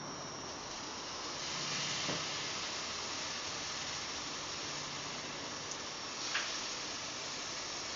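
Small dollops of pancake batter fry in oil in a hot pan, giving a steady, even sizzling hiss at moderate level throughout, with a couple of faint clicks and no one speaking.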